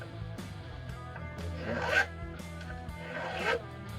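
A metal file rasps along the fret ends of a guitar during maintenance, with two rough scraping strokes that swell and fade, close by, alongside some speech.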